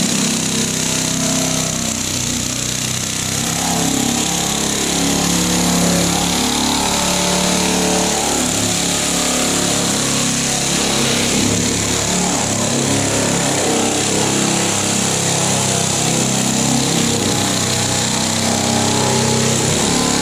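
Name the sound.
power sanding fiberglass body filler on Mustang quarter panel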